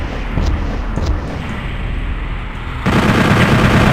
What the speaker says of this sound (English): just keep firing rockets even after he dies